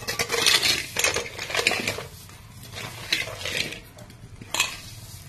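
A spoon stirs bansi rava kesari with coconut and added sugar in a pan, giving repeated scraping and clinking strokes against the metal, fairly close and moderately quiet, with no talking.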